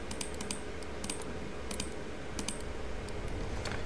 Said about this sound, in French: Je sais pas si vous entendez mes clics de souris